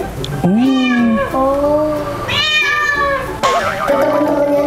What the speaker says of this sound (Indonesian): sekarang aku mau lihat kucing yang ada di sini